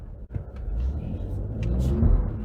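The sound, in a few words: 2019 Ford Raptor truck accelerating with tire slip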